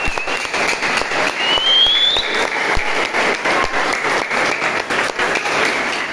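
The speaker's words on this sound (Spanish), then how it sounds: "fuerte el aplauso para ustedes que están acompañándonos." Loud, steady audience applause fills a club hall at a children's football season closing event, continuous clapping throughout with a faint whistle rising briefly over it.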